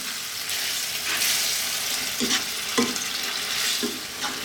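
Quail simmers in tomato sauce over medium heat, a constant close bubbling hiss with several short stirring scrapes of a utensil against the pan.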